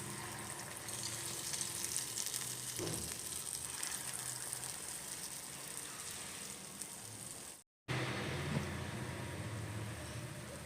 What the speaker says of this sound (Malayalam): അപ്പോൾ എണ്ണ ചൂടായിട്ടുണ്ട് നമുക്ക് ഓരോന്ന് ഇട്ട് കൊടുക്കാം